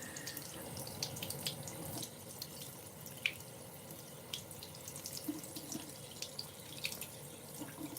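Tap water runs steadily into a sink at a clown's makeup station, a continuous wash of splashing with a few brighter drips and clinks, no talking.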